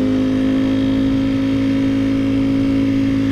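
A 2018 Ducati Panigale V4R runs on the road with a loud, steady engine drone at a nearly constant pitch, and no voice is heard.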